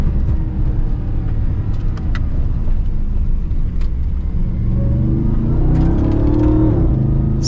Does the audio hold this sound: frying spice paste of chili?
no